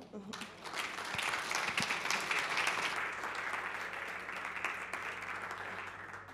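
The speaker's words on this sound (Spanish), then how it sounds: "Así que un fuerte aplauso para Holly Stewart." At a symposium on Neotropical carnivores, an audience claps for a speaker, a sustained patter of many hands rising quickly and fading gradually over several seconds, with a voice talking faintly underneath.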